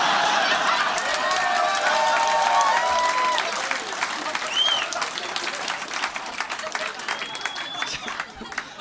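Sustained audience applause at a stand-up comedy show at the Comedy Store, dense and loud at first, then thinning slightly toward the end, with scattered whoops and whistles over the clapping.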